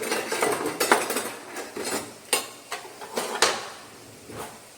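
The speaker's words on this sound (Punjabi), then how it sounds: "ਹੁਣ ਅਸੀਂ ਰੱਖ ਦਿੱਤੀ ਕੜਾਈ ਤੜਕਾ ਬਣਾਉਣ ਵਾਸਤੇ" A kadai wok is set down and handled on the stove before tempering in a home kitchen, giving a series of sharp metallic clanks and knocks at irregular intervals, fairly close and moderately loud with no voices.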